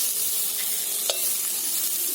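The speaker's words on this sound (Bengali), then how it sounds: "এই তেলেই ফুলকপিটা ভেজে নেব" Cauliflower fries in hot oil in a wok, giving a steady, hissing sizzle that holds at an even level, with one brief sharp crackle partway through and no voices.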